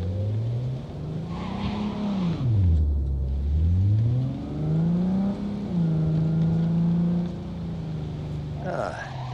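A car engine in Cyberpunk 2077 revs up and down, its pitch swooping low then climbing steadily as it accelerates, loud and close, with brief tire noise.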